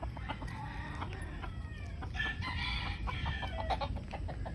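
Several hens cluck and chatter nearby in short repeated bursts, with a rooster-like crow mixed in over a low outdoor background.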